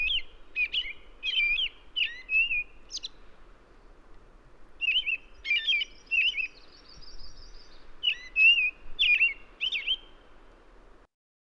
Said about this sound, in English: people say that American robins say cheerily, cheer up, cheerily, cheer up in these sort of little phrases